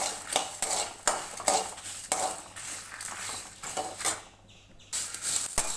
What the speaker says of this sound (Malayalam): നമ്മൾ ആ മണമൊക്കെ വരെ ഒന്ന് ചെറുതായിട്ട് വറുത്തെടുക്കുക